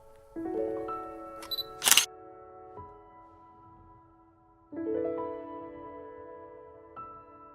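One sharp camera shutter click from a Fujifilm GFX100II fired by self-timer stands out over a quiet, steady hum, followed by soft mechanical tones.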